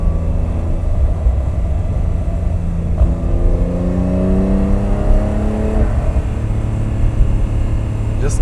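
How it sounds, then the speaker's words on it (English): A 2026 Porsche 911 engine drones steadily from inside the car while it is being driven, with the note climbing and settling through gear changes. "listen to that engine roar"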